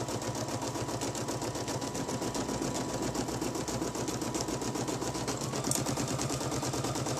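An embroidery machine stitches across bulky vinyl on a wallet project, a steady rapid mechanical clatter of needle strokes running continuously at close range with no voices.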